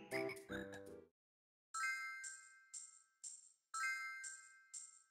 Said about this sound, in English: You can tell by the sleigh bells and the music.